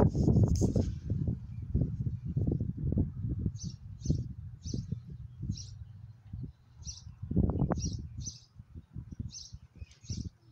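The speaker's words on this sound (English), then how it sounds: "Hear the birds?" Small birds chirp in short, high, evenly spaced calls, around ten in a row, heard over louder low-pitched rumbling and thumping sounds close by.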